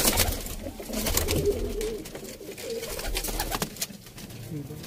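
Khaki pigeons coo steadily over a busy outdoor background in Sialkot, soft repeated calls blending together with other faint bird sounds.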